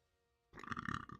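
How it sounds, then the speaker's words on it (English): A single close, loud burp erupts after a moment of near silence and rolls on for under a second. "I don't know if you heard the burp, but I did burp."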